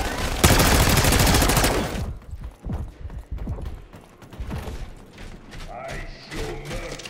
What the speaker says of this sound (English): Sentry turrets live.